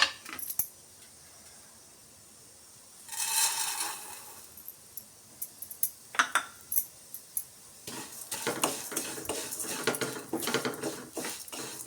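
Vermicelli is roasted over low heat in a pan and stirred with a metal utensil, giving a quiet start, then a burst of scraping followed by rapid clinks and scrapes that grow denser toward the end.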